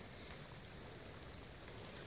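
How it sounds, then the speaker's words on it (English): Rain falling at a bushcraft campsite with a cookfire, a faint, steady hiss of drops scattered with small ticks and taps, no voices. "I think I'm fixing to get rained out pretty bad here."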